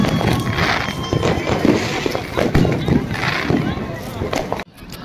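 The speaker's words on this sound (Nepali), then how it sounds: "कति धेरै पटका पड्किरहेको जताततै। यता माथितिर पनि यता चाहिँ धेरै पड्किरहेछ।" Fireworks burst all around during New Year's Eve in Helsinki, with scattered loud cracks and booms over a busy outdoor din while a person talks close by.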